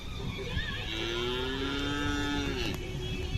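A Khillar cow moos just after calving, one long, loud, drawn-out low call close by over steady background noise.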